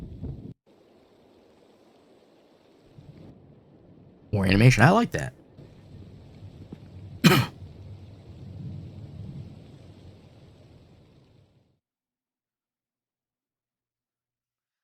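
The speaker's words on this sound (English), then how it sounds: "Realizing that the rain would not end soon, I sat down on a bench at the bus station" Rain and thunder heard at a bus station in the video game Three Flowers: two sharp thunder cracks break over a low steady rain wash, with a voice talking briefly at the start.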